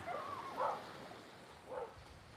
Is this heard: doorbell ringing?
no